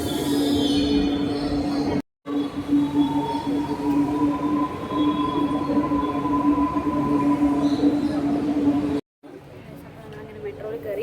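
A Chennai metro train rides between stations, a steady close rumble with a sustained tonal whine, broken by two brief silent gaps, while people talk over it.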